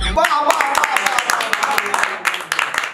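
A game-show audience claps for a contestant, quick uneven hand claps ringing close and loud in a lively burst, while a voice talks over them at the start.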